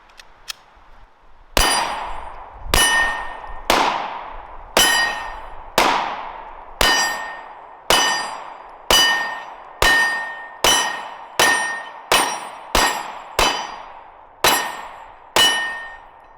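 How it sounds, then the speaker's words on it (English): A Glock 17 Gen 2 pistol fires 9mm parabellum rounds at a shooting range: a long string of loud, sharp, ringing shots, each followed by a short decay, starting slow and quickening toward the middle. "First test of this Glock 17 Gen 2, 17 rounds of 9mm parabellum."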